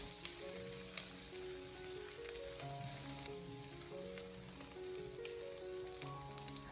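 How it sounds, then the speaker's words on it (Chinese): Ginger, garlic and bird's-eye chili stir-fried in oil over low heat in a wok, a steady close sizzle running throughout, with soft music playing underneath. "再把切好的姜蒜、小米辣放进来，再继续的开小火，不停的翻炒一小会，把小料煸炒出香味"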